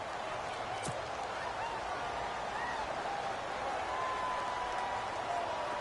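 Steady stadium crowd roar from an American football video game on PS4, a constant loud wash of cheering and noise filling the whole stretch, with a few brief whistle-like tones rising above it.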